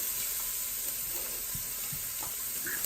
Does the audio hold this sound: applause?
no